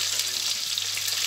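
Onions frying in a pan for bhindi, a steady close hiss of sizzling oil with a faint low hum underneath, continuous and without talking.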